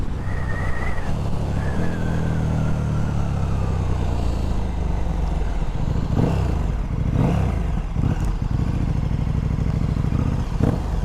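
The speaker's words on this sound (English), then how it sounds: "Oh, it's a bit more snarly out the back. I can hear the snarls from the back." A motorcycle fitted with a Vandemon full exhaust system rides along a road, its engine droning loud and close as it accelerates, with gear changes and snarling exhaust blips over wind noise and no talk.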